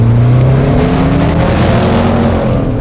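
Range Rover Sport SVR P575 supercharged V8 under hard acceleration, a loud continuous engine roar with a rising note, close and steady throughout with no talk.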